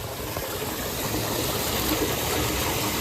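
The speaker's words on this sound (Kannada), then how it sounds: "ನೀರು ಪರಪನ ಸೌಂಡ್ ಕೇಂದು ಅದ" Water flows beneath rocks at the Sri Somanatheshwara hillside temple shrine at Daregudde Itala, a constant close rushing and gushing stream with no break and no talk.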